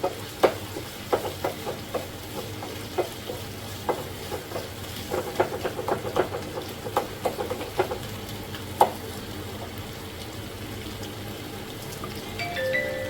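Tomatoes sautéing and being mashed in a pan for a pepper prawn gravy, with steady spoon scrapes and taps over a low sizzle, busier early and thinning out toward the end.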